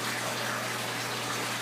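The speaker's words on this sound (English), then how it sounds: "The water's filling up now." Tap water gushing steadily into a bathtub, a continuous broadband rushing hiss with a low steady hum beneath it, constant and unbroken throughout.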